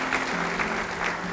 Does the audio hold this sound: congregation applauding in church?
yes